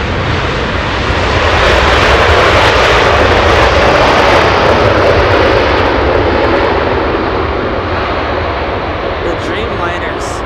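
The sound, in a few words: Boeing 787 Dreamliner airliner at Los Angeles airport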